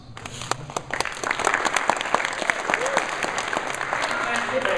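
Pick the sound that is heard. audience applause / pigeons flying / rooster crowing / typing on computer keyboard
audience applause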